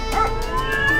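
Cartoon dogs howl in overlapping, sustained wavering tones, loud and close, filling a brief moment with no talk.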